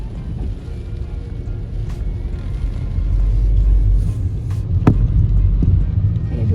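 Strong wind blows outdoors on an October day after rain, a steady low roaring rumble that swells louder midway, with a few sharp buffeting gusts against the microphone.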